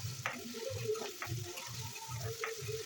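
Onion and tomato frying in oil, stirred with a spoon in a pan: quiet, steady scraping strokes repeat about every half second over a soft background sizzle.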